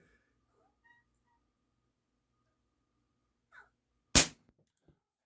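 A Crosman 1377 American Classic air pistol fires a single shot at half pump, a sharp close crack in a quiet room, preceded by a faint small click.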